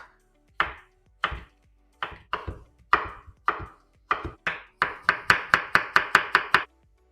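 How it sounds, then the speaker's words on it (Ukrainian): A knife chopping cucumber finely on a board: crisp separate cuts at first, then a quicker even run of about a dozen close, clear chops at the end. "Дрібненько наріжу огірок."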